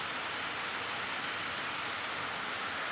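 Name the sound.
rain falling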